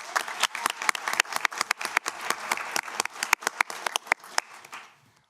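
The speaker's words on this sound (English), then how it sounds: "a round of applause for Laura, please" A board of education meeting room fills with applause, a modest group clapping in quick irregular bursts that continue for several seconds, then fade out to silence.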